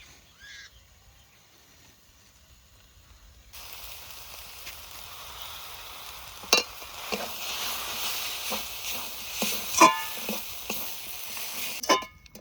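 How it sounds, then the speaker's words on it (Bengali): Chickpea greens cook in a pan with water and stirred-in rice flour, giving a faint, low simmer with occasional soft scrapes and knocks of a spoon, quiet at first and then a steady background bubble. "জল দিয়েছি, এবার চালের গুঁড়িটা ভালো করে গুলিয়ে নেবো।"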